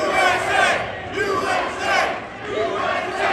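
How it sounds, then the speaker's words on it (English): An outdoor gun-rights rally crowd at the Rhode Island State House chants "USA" loudly in rhythmic, repeated waves, a dense mass of voices heard up close. "Let's hear that chant."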